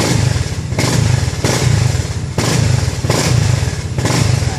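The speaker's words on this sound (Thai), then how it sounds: "เราติดเครื่องดูครับ" A motorcycle engine runs loudly and close up, its rough exhaust beat pulsing in steady surges as it is revved repeatedly, with no voices over it.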